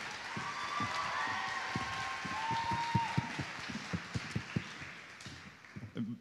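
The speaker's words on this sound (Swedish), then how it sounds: "En jättevarm applåd för Cecilia Frankenberg." Applause from a crowd at a cosplay competition at a Stockholm convention. The claps are steady and sustained across the room, with a few louder claps standing out near the end.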